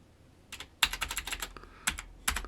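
Close, crisp taps on a computer keyboard while entering a CAD command, a few scattered keystrokes followed by quick clustered bursts and a final pair of presses.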